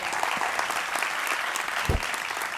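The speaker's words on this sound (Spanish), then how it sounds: "Un aplauso, por cierto, para los chicos, para los presentadores de Viviendo el Cuento" At a tech conference, the audience claps for the event presenters in a continuous, full round of applause with a few louder individual claps rising from the crowd.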